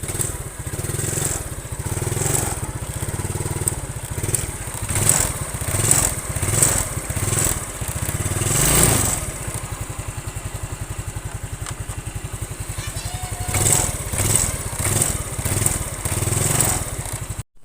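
A Yamaha Mio scooter with a troublesome carburetor runs close by, its engine buzzing and revving unevenly with sputtering pulses and repeated throttle blips that drop back to a rough idle.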